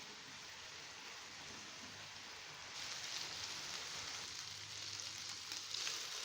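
Chicken frying with spices in a pan, a quiet, even hissing sizzle like light rain that swells slightly partway through and holds steady, with no talking.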